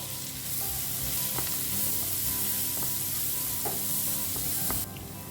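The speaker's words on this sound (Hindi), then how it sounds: "और अब इसे ना 1-2 मिनट के लिए जैसे भून लेते हैं." Chopped onion frying in a pan for squid butter garlic, a steady loud sizzle throughout with several spatula taps and scrapes against the pan, no voices.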